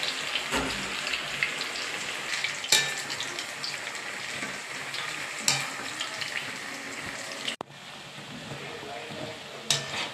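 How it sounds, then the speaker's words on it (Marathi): Slices for dal baati frying in hot oil, a soft continuous sizzle with a few sharp clinks and knocks of utensils, close and fairly quiet without speech. "काप झाल्याच्या नंतर ते तेलात तळायला टाकणार"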